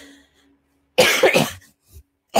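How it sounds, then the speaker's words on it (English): A single harsh, close cough bursting out after a near-silent moment, followed by a brief throat sound and the start of another cough. "Apparently I'm going to cough today too a whole lot."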